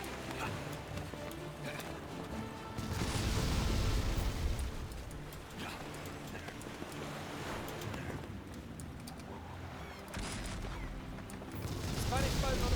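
Ship cannons boom in the Captain Blood pirate video game, with several deep, distant blasts rolling over constant wave and wind noise in a naval battle.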